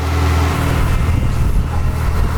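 A strong, steady airstream roars loudly and close around a Novitec Ferrari F8 N-Largo supercar inside a wind tunnel. The low rumble is constant with no voices.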